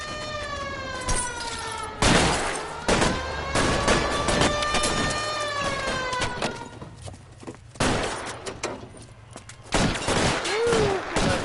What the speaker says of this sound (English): Shotgun. My hat got shot off.